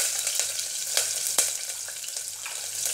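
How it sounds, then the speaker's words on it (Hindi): Green chilies and cumin seeds fry in a pan with a steady, close sizzle, broken by a few sharp crackles and pops as the spices spit, with no voices. "हरी मिर्च और जीरा हमारा भून चुका है"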